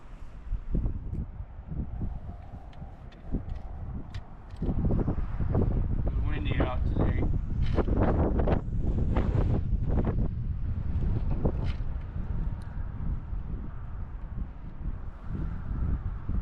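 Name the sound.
wind blowing on frozen lake while ice fishing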